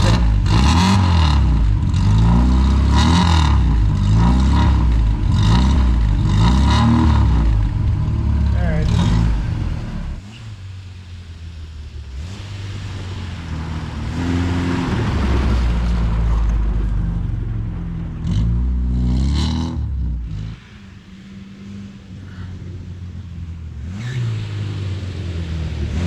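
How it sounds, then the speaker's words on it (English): A Saab Sonett engine revs up loudly and close by in several rising and falling bursts, then settles back to a rumbling idle that swells briefly a few more times. "Rev it up a little bit."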